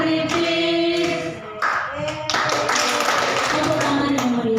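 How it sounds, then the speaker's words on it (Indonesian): An audience at a teacher training dissemination session claps in a loud, dense burst of applause close by, with a sustained musical tone running underneath. "Tepuk tangan yang meriah."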